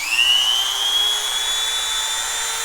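A Hardell rotary tool runs at maximum speed, giving a steady high-pitched whine with a slight upward drift, close and fairly loud, with no talking.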